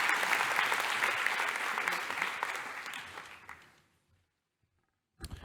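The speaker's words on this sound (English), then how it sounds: "let's give ourselves a round of applause for a beautiful and successful event" Attendees at a healthcare sciences declaration ceremony applaud a successful event, a strong burst of crowd clapping that gradually dies away into silence, followed by a brief sound at the very end.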